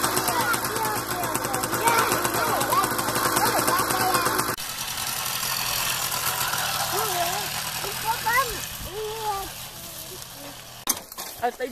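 A Riga 13 moped engine starts and idles outdoors on a hot day, a steady mid-pitched putter running throughout, loud at first and then lower, while children and adults talk over it.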